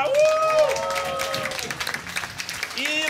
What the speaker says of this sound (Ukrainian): Дайте оплески людям, які привізали сьогодні для вас.